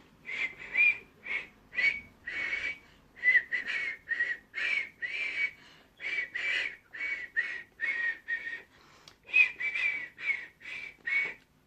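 A person whistles a short tune of repeated bright notes, close and clear, in a steady rhythm with brief breaths between phrases.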